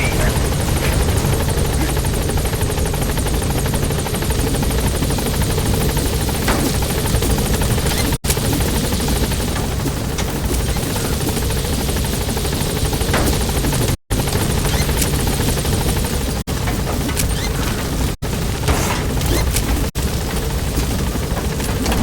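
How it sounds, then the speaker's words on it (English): A support helicopter in the video game Metal Gear Solid V gains altitude and departs a landing zone, its heavy rotor chop loud and continuous throughout, with game radio voices over it and a few brief dropouts. "Gaining altitude. Buddy departing area of operations."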